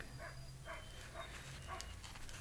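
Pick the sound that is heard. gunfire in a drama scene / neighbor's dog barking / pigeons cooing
neighbor's dog barking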